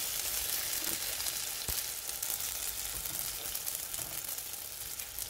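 Sfenj doughnuts frying in oil in a pan, giving a steady, even sizzle that stays close and constant throughout with no talking.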